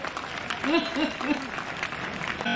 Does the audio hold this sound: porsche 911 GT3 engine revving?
no